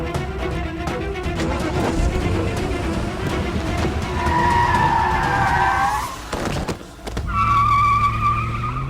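A car skids to a stop with sustained squealing tires and a revving engine, loud and close, with a brief drop before another sharp screech at the end.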